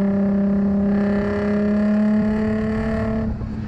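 A Nissan 350Z sports car engine roars in a deep, steady drone with strong harmonic tones, loud and close, easing off slightly near the end.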